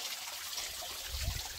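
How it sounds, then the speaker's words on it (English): A small waterfall in the Catalina Foothills trickles continuously, a soft even splash and burble with a slight low gurgle near the end. "It's been a steady climb, so not a big waterfall, but a relaxing sound."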